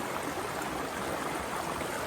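Thoreau Creek flows on steadily near Thoreau Falls, giving a broad, even rush of running water with no voices.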